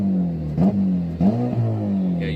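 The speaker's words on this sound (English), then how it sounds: "Maybe I'll give her a few little fucking revs." A car engine with its exhaust patched using Bud Light cans gets two quick blips of the throttle, each rising and dropping back to a rumbling, close idle.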